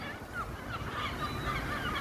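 Scattered nasal honks and quacks from a group of ducks at a bird park, overlapping in an irregular chatter, fairly close and steady.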